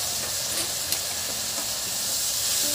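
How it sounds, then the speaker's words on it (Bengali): A splash of water added to spice masala with coriander powder frying in a pan sets off a loud, steady, close steamy hiss with a faint tap. "এবার এর মধ্যে আমি অল্প একটু জল দেবো"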